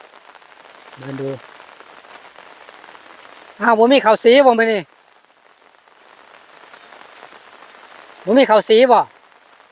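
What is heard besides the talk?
rain falling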